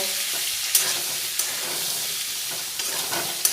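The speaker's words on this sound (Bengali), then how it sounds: "ওতে দিয়ে দেব নুন, হলুদ গুঁড়ো" Chicken is stirred with salt and turmeric in a hot frying pan, steady oily sizzling with a few sharp scrapes of the spoon against the pan.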